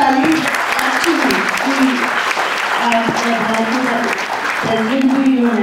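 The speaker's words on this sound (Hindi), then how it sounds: "जोरदार ताली।" An audience breaks into steady, sustained clapping at a talk on women's issues in Indian sports, a dense patter of many hands that carries on throughout while a voice speaks over it.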